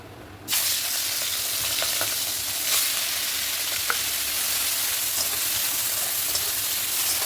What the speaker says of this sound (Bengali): চিংড়ি মাছটা আমি হালকা করে ভেজে নেবো।